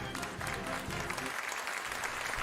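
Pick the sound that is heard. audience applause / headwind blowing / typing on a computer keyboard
audience applause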